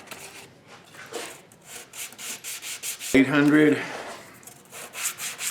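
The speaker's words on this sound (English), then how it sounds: "we're not sanding wood, we're sanding this composite." Hand sanding a composite part with fine 800-grit sandpaper, a close series of rhythmic rasping strokes, briefly interrupted by someone speaking midway.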